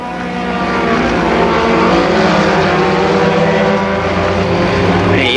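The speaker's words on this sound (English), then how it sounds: "And now Cradler with some sort of misfire on that car." A mini stock car at Columbus Motor Speedway runs with a misfiring engine, its loud, rough, continuous roar filling the clip alongside other cars nearby, with no voices over it.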